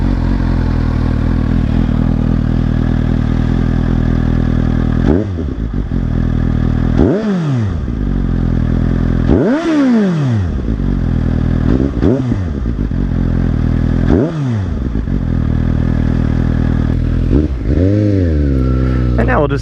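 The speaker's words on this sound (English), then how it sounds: "It has a lot of pops and stuff with the baffle out when you're decelerating." Motorcycle with a Yoshimura Alpha exhaust and its baffle removed, fully warmed up, revving loud and close; repeated rises and falls in pitch with a steady idle between, under occasional talking.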